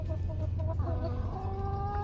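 A backyard hen on a perch in a coop clucks in a run of short, close murmuring notes that rise into a longer drawn-out call, with no talk.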